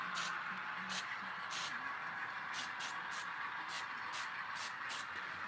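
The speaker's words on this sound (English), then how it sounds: "But then I just seal it with hairspray." Hairspray sprayed onto a handmade model railway tree to seal it, a series of about a dozen short hissing squirts in quick bursts, moderately close over a faint background hum.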